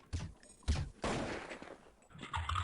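Gunfire in Counter-Strike 1.6 on a jailbreak server, heard as several separate loud bursts and volleys of shots with dull thuds between them, close and fairly dense, without speech over them.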